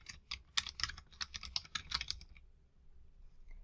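Quick run of computer keyboard keystrokes typing a short note, close and crisp, then stopping into near silence.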